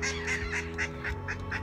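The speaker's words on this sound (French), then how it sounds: "On dit bonjour au canard." A series of rapid, nasal honking quacks from a waterfowl, about eight calls in a steady rhythm, loud and close with no voices.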